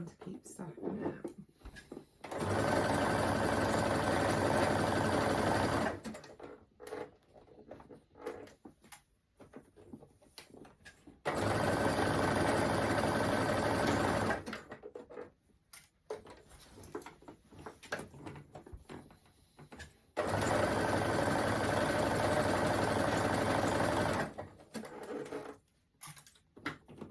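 A sewing machine stitches a T-shirt sleeve seam in three loud bursts of a few seconds each, stopping between them while quiet handling noises and low speech fill the gaps.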